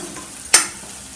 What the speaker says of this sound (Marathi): आता आपण त्याच्यामध्ये 1 चम्मच हळद टाकूया. मी हळद सगळी मिक्स करून घेते.